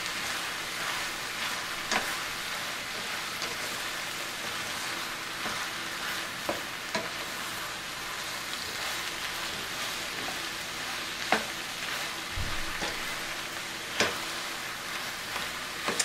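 Okra cooked Malaysian style with spices sizzling steadily in a frying pan, a constant hissing crackle with occasional scrapes and taps of stirring, no talking.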